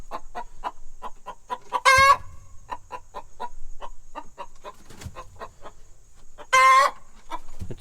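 Backyard homestead chickens cluck in a steady run of short notes, with two louder, longer calls breaking in; no voices.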